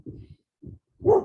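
A puppy gives three short, loud barks up close, the last one sharper and higher, with brief silences between them.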